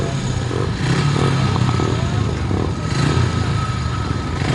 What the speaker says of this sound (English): the 7 bike of Caleb Joyce about to get fired up